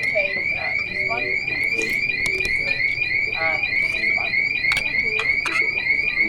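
A restaurant fire alarm sounds in Tallinn, Estonia, with a rapid, repeating electronic chirp that is loud and continuous, while people talk and dishes clatter beneath it.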